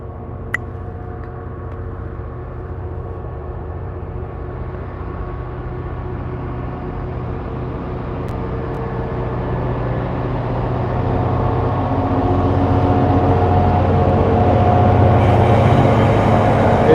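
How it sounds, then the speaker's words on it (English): Train approaching and passing close by, a low rumble that builds steadily into a louder mechanical roar with a hum of engine tones, no one talking over it. "We've got a train incoming."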